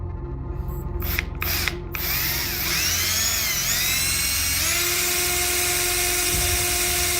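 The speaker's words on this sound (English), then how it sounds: "He starts drilling." A power drill whirs loudly and steadily, its whine rising in pitch after a few short starting bursts, then holding a high, continuous drone.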